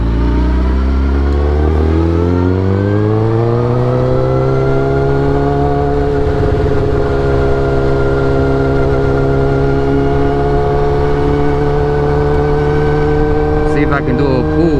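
Road traffic with cars and motorbikes passing on a fine-weather day, heard as a strong engine drone that rises and shifts in pitch as vehicles accelerate by, holding loud and continuous with a brief rattle near the end.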